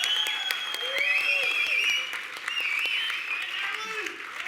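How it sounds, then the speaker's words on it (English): Audience applause at the 2023 Victorian Aboriginal Honour Roll ceremony, steady clapping from a crowd throughout, with some voices and cheers mixed in. "Please keep the round of applause going for our Minister, Natalie Hutchins MP"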